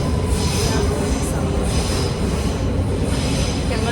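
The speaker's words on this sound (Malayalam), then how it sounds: "അങ്ങനെ ട്രെയിൻ വന്നു. നമ്മളതിൽ കയറി." A U-Bahn subway train in Germany arrives with a loud, continuous rumble and screeching wheel squeals close by, with faint voices in the background.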